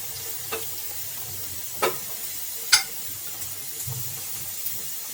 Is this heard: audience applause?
no